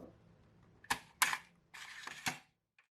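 Outer case of an Atari ST floppy drive being opened, a few sharp plastic clicks and snaps followed by a longer scraping slide, close and fairly quiet, with no talking.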